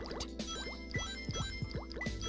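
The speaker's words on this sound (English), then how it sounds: "Oh cool, loud dripping noise." Rapid watery drips and liquid plops echo through a level of the video game Sonic Adventure 2, falling in quick, uneven succession over a steady background of game music and ambience.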